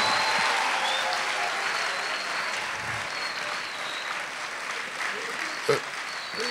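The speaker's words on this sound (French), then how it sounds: "Encore des applaudissements pour eux" Sustained audience applause for a Kimbanguiste theatre group, brass band and flute players at a concert at the Institut Français in Brazzaville, a dense steady wash of many hands with a faint voice over it, tapering slightly near the end.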